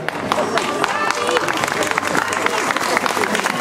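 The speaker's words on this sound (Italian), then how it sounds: "Grazie per l'applauso" A large crowd at a carnival parade applauds steadily, dense clapping filling the whole stretch with a few voices mixed in.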